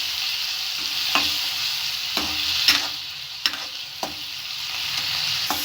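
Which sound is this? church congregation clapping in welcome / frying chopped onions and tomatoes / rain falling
frying chopped onions and tomatoes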